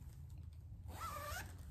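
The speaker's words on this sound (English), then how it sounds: "It's got the zippered opening." A zipper on a fabric pillow cover is pulled open in one smooth, quick rasping stroke, close and fairly quiet over low room noise.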